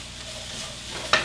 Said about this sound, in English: Then move on to the broccoli.